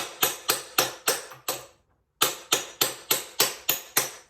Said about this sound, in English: get a hammer, give it a couple of hits